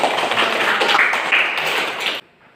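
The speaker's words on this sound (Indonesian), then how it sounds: "Ya, tepuk tangan." A classroom of students claps for the best group, a loud, busy burst of hand claps that cuts off abruptly, leaving near silence.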